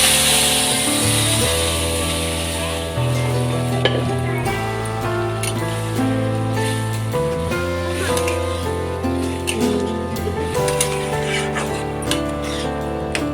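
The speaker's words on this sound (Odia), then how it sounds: "ସବୁ ଫୁଟିଗଲାଣି, ଛୁଙ୍କ କରିଦେବା।" Tempering sizzles in a pan for saag mung dal cooked without onion or garlic, a continuous crackling fizz with stirring scrapes, under steady background music.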